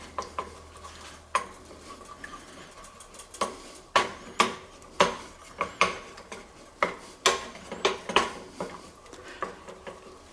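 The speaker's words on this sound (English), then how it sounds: "And just scramble that egg up." A single egg being scrambled in a pan with a utensil: sharp, irregular scraping and tapping strokes against the pan, fairly close and distinct, repeating through the stretch with no talking.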